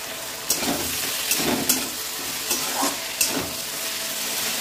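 Food sautéing in a hot pan after sugar is added, a steady close sizzle punctuated by about five scraping stirs of a spatula at irregular intervals.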